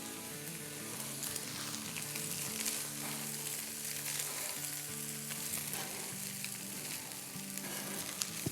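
Tawa pulao with a spoonful of hot chili sauce fries on a high flame while being stirred nonstop, giving a steady, loud sizzle with light scraping throughout and no talk.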